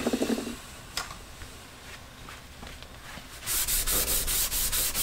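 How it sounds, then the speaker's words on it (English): Brass bristle brush scrubbing degreased metal parts from an abandoned Warco mill and Boxford lathe, heard as a steady close scouring rub that grows louder and harsher in rapid strokes near the end. "the reason we're using the brass bristles and this is obviously not doing anything to the actual surfaces then"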